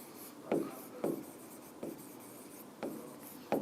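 Chalk or marker strokes on a board during a physics lecture on inertial frames of reference, five distinct scratchy taps at an uneven pace, quiet and close, with no talk over them.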